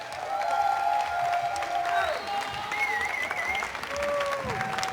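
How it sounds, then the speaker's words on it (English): Audience clapping and light cheering at a King's Cup finals event, sustained for several seconds beneath a background musical tone. "A big round of applause for all of our YouTube creators"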